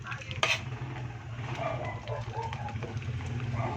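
Dinuguan, a thick Filipino pork blood stew, being stirred continuously in a pot over high heat, with steady scraping and soft wet churning close by and a faint sizzle underneath.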